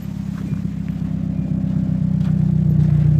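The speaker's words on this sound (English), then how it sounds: "Idling it don't sound that bad." A Hyundai car engine idles steadily nearby, a low, even hum with a light mechanical clatter that grows slightly louder over a few seconds, with no talk.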